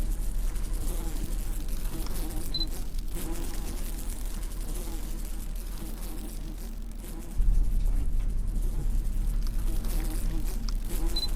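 Insects buzz steadily in the horror video game Cursed Digicam, a continuous droning hum of flies or bees over a low ambient bed that grows louder partway through.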